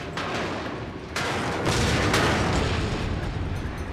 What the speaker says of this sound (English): You can see that my ship is taking a lot of damage right now from 2 ships shooting at me.